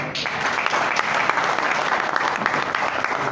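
A conference crowd in Mali applauds steadily, a dense, even wash of many hands clapping at close range with occasional sharper claps standing out.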